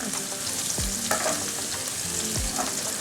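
Onions and other ingredients for kushari sauté in a pan before garlic goes in, a steady broadband sizzle with occasional clinks and scrapes of stirring, close and continuous.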